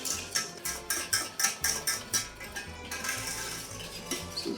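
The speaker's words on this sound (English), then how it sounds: "you just want to whisk this until it's all combined" Metal whisk rattling quickly against a pot while stirring milk and cocoa for a plant-based babka syrup, a fast rhythmic clinking in regular bursts that soon settles into a softer continuous scrape.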